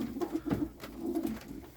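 A grey pigeon coos close by in soft, throaty, repeated phrases at a countryside cottage, with faint background noise.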